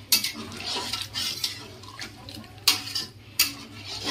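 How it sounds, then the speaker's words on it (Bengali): A wok being rinsed with hot water: sloshing water mixes with metallic scraping, and a few sharp clanks and clinks of the pan sound close by, with no voices. "গরম জল দিয়ে কড়াইটা ভালো করে ধুয়ে জলটা দিয়ে দেবো।"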